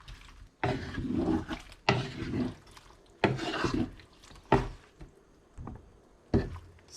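Water poured into a cooking pot of patola (kabatiti) being cooked Ilocano style, heard as several close, separate splashing bursts with short quiet gaps between them.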